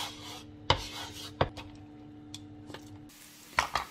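Onions browning in oil in a frying pan give a faint, low sizzle, broken by a handful of sharp utensil clinks and scrapes against the pan, close by and with no one speaking.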